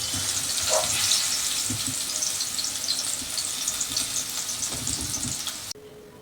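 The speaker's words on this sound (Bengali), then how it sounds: "এবার বেগুনটাকে ভেজে নিচ্ছি" Eggplant fries in oil with a dense, constant crackling sizzle close by, steady throughout before cutting off abruptly at the end.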